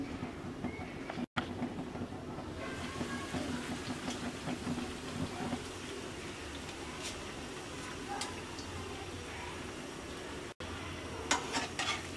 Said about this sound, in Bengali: ব্রেডগুলোকে এরকম ব্রাউন কালার করে ভেজে নেব।